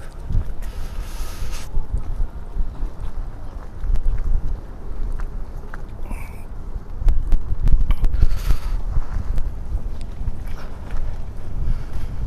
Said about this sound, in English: It's also relatively windy, so we're probably going to have some fuzzy audio